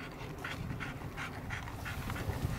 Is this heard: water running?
no